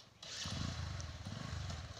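A motorcycle riding on the road toward the Biramunda Vishweshwar hill temple, its engine a steady close putter with rhythmic pulsing, wind noise over it.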